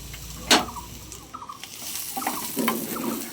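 Chopped onion, garlic and capsicum fry in a pan for a tawa fry burger, with a steady close sizzle broken by a sharp knock and scraping stirs.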